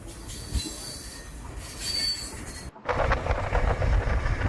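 A Union Pacific freight train of auto rack cars and double-stack cars rolls past near Taggart tunnels, wheels squealing loudly and steadily, then a sudden louder, brighter grinding burst as cars pass close.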